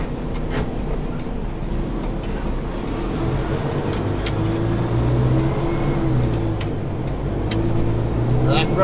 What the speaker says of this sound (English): That grinding there again, that was because my clutch brake isn't working properly.